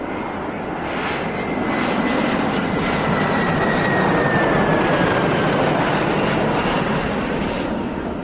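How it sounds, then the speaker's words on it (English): An airplane flies past in a flight simulator game near Detroit, Michigan: a loud, steady engine roar that swells slightly and holds as it passes, with no talking. "I was just waiting for that plane to go by"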